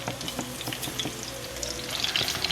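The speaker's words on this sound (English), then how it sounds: "So just go ahead and drop all your shrimp in" Shrimp for gluten free tacos hit hot oil in a pan and set up a steady crackling sizzle with scattered pops, close and continuous with no voices.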